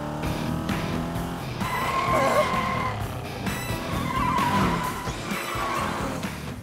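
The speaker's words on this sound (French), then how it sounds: "c'est une mini-voiture qui fait des bruits de mini-voiture" A toy mini-car in a Polly Pocket mini-ride playset makes cartoonish driving sounds, with squealing, skidding tones rising and falling over a steady engine-like drone, close and continuous.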